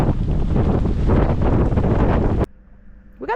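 Strong gusting wind of about 29 knots roars across the microphone aboard a cruising sailboat off Fiji, loud and steady for a couple of seconds before cutting out, leaving a quieter background with a brief rustle near the end.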